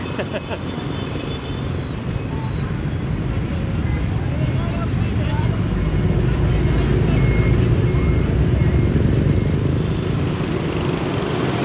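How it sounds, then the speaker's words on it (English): Dense, loud street traffic in Ho Chi Minh City, dominated by motorbikes, forms a constant close roar of engines and road noise with no letup, and a voice talks underneath the din. "the traffic and the noise from the road was loud inside the hotel, but out here on the street, I can't even hear myself talk"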